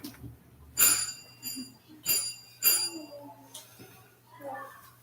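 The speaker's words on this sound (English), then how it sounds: "I'm going to go ahead and ring the bell and get the kids out." A bell rung to dismiss children from a Sunday school class gives several bright, ringing strikes spaced about a second apart, each fading quickly, with a low steady hum and faint room noise between them.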